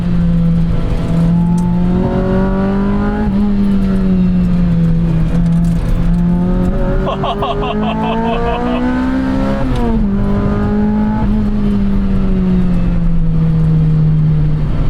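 A 2006 Lotus Elise engine revs up through the gears, its pitch climbing and dropping with each shift, loud and close with a steady roar throughout.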